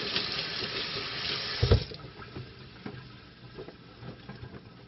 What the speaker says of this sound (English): you can wash them right under the sink because they're made out of that silicone stuff